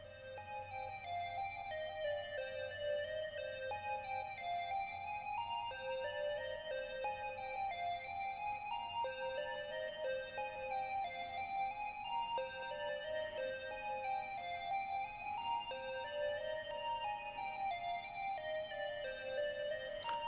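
A patch in VCV Rack plays an odd-length 10-step sequence of bright, bell-like synth notes over a steady low drone, looping continuously at even loudness with no talking.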